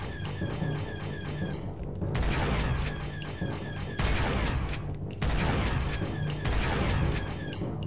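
Turret gunfire in the video game Star Wars: Republic Commando, rapid automatic bursts with booming impacts and mechanical clatter, loud and close, pausing briefly between volleys over about eight seconds.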